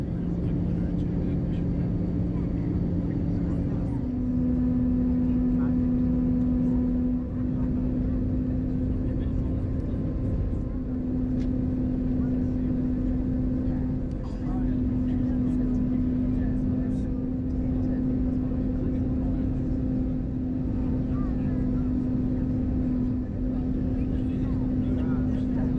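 A steady engine drone fills an airliner cabin on the approach to Inverness airport after a flight from Bristol. One constant hum runs throughout with a slight pitch step early on, moderately quiet, with no other prominent sounds.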